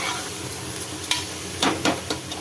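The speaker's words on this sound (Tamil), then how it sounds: "நல்லா வதக்கிக்கலாம் ஒன்று சேர" Potatoes with mint and coriander being stir-fried in a pan for matar potato pulao, a steady sizzle with a few sharp scraping stirs near the end.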